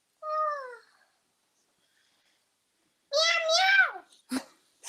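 A pet cat gives a short meow, then after a pause a longer, louder wavering meow close by, followed by a brief sharp sound.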